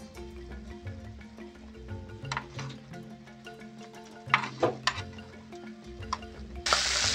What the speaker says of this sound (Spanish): Bueno, ya se doró nuestra carne. Se está dorando.